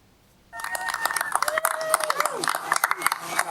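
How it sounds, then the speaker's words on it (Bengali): A crowd at a Florida university breaks into applause, dense clapping with cheers and voices mixed in, close and lively, over a faint tone. "করতালির মাধ্যমে স্বাভাবিক জীবনে স্বাগত জানানো হলো ফ্লোরিডা বিশ্ববিদ্যালয়ের অধ্যাপক জোসেফ দিত"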